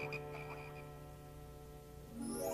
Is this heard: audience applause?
no